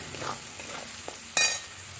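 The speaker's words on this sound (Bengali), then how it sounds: "মশলাটা আমার ভাজা ভাজা হয়ে গেছে।" Spice paste of cumin, ginger, turmeric, salt and chilli powder frying in a pan for a festive meal, with a soft steady sizzle, a few light stirring scrapes and one sharper clatter near the end.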